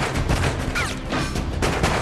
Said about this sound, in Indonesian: aksi tembak-tembakan pun terjadi.